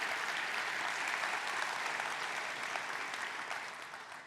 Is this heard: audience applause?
yes